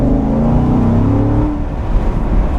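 A 2015 Corvette Stingray convertible cruises in normal automatic drive mode on a back road, its engine a steady, loud, close drone with a low tone that dips slightly as it shifts, no voices.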